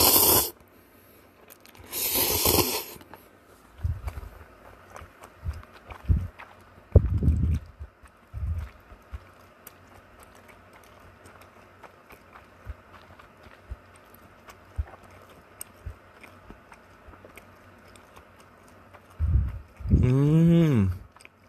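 Close, crunchy chewing with the mouth closed comes in scattered bursts with long quiet gaps, picked up by a phone microphone. Brief murmurs and a short vocal sound appear near the end.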